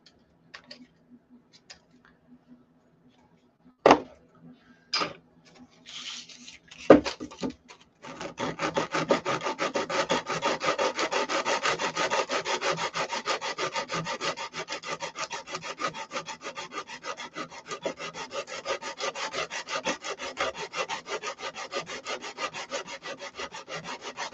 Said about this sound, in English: Sorry if the sound of the sandpaper